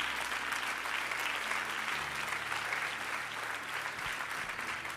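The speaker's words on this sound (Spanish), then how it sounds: "Si ese aplauso es para Cristo, dáselo más fuerte." Congregation at a youth church service applauds for Christ, a loud, steady wall of clapping that holds evenly from start to finish.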